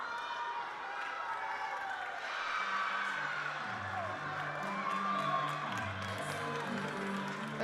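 A crowd at a college gymnastics meet cheers and claps steadily through the clip, broad and sustained arena noise, while a commentator speaks low underneath.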